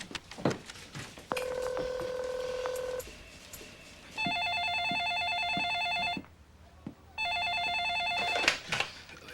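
A telephone call is placed: a short tone sounds first, then two long electronic ringback bursts separated by a pause, loud and close, with faint incidental noise and no talk in between.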